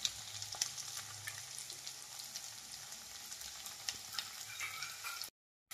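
Ginger garlic paste sizzles steadily in a pan for a brinjal tomato curry, a soft, continuous fry with faint stirring scrapes, cutting to silence at the very end.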